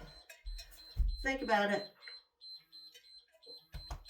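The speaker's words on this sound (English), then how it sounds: "Our timer is celebrating for us." An exercise interval timer beeps in short repeated high tones during a leg workout at home, while someone talks over it.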